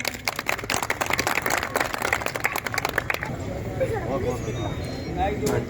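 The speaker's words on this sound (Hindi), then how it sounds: "ग्राम पंचायत तालियां बजा करके स्वागत करें सांसद महोदय का" Applause at a farmers' rally welcoming the MP. A crowd claps in a fast, steady patter for about three seconds, then the clapping stops and someone speaks over a loudspeaker.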